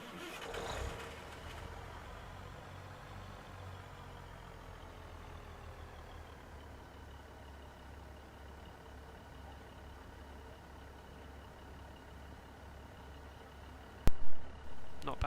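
A Train Sim World 3 locomotive diesel engine on the West Cornwall local line starts up and settles into a steady low idle, a loud rumble held for the length of the clip before a couple of sharp knocks near the end.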